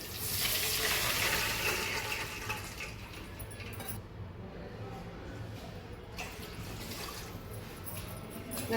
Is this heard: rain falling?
no